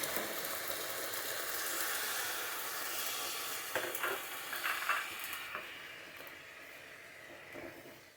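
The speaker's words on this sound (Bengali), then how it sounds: "চালটা ভাজা হয়ে গেছে, এখন গরম পানি দিয়ে দিব।" Hot water is poured onto rice frying in a pot for vegetable chicken khichuri, raising a loud, steady hiss and sizzle that settles into quieter bubbling and a few stirring clinks.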